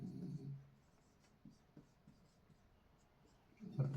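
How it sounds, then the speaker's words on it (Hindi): A pen writing an answer in a box on paper during a class 10 physics lesson, with faint scratchy strokes and short taps, quiet and close. "यहाँ लिख देते हैं डब्बा में।"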